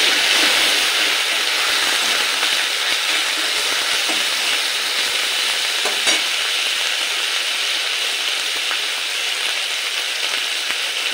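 Spice paste (masala) frying in oil in a pan for a chana dal, soybean and potato curry while it is stirred: a steady, close, loud sizzle that runs without pause, with faint scraping of the stirring and no talk.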